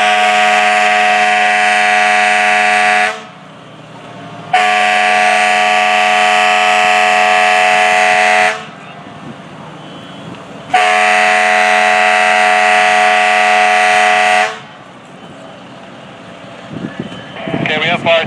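Loud, sustained electronic evacuation tones blare from a fire engine at a fire on Lakehurst Road, sounding in three long blasts of several seconds each with short gaps, while radio chatter comes through faintly in between.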